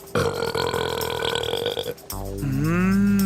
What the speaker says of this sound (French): écoute-moi un peu ce gros rot